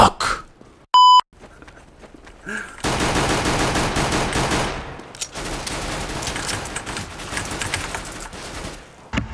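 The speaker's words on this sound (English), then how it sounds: "I am planting the bomb." A planted bomb beeps in CS:GO, a short electronic bleep standing out early, followed by dense, sustained gunfire and chaotic game noise that fills most of the stretch.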